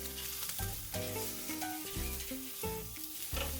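Hanger steaks sizzle on a hot grill grate, a dense, loud crackling hiss with clattering knocks and scrapes as pieces are flipped, close and without talk.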